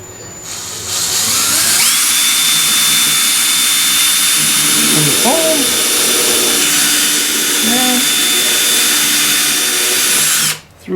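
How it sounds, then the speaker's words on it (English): A power drill whirs loudly and steadily at high speed for several seconds while drilling holes through plywood, then cuts off abruptly near the end. "We'll drill the holes."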